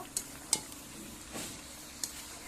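Chicken frying in oil with potatoes being added, a soft continuous sizzle broken by a few sharp clinks of a spoon against the pan while stirring, close and quiet.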